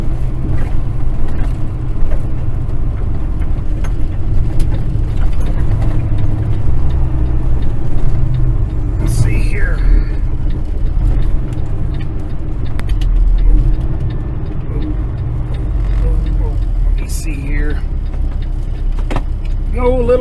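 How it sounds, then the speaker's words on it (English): An old little truck engine labors uphill on an old road, a steady low rumbling drone that holds throughout with faint rattles and brief higher chirps on top. "Go, little truck, gotta get up and go."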